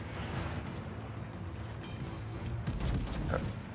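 Warship main guns in the naval battle game World of Warships fire armor-piercing shells, heavy booming blasts with a rumbling tail, a louder salvo arriving near the end.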